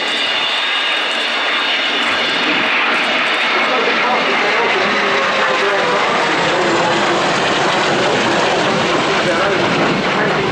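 A Eurofighter Typhoon jet roars loudly and continuously overhead at the RIAT air show at Fairford, its engine noise filling the air while a commentator talks over it.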